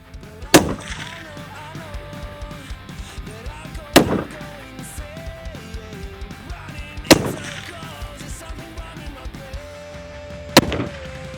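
Rifle shots fired at soda can targets 400 yards away on a shooting range: four sharp, loud cracks spaced about three seconds apart, each with a short echoing tail, over faint background noise.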